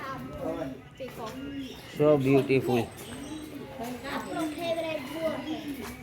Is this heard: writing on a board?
no